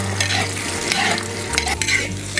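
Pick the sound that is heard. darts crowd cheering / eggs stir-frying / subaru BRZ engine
eggs stir-frying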